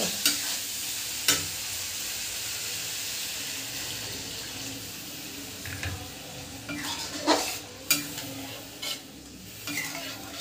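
Water is poured into a pan of frying masala and stirred, giving a continuous bright sizzle with a few sharp clinks and scrapes of the spoon against the pan, close and alone.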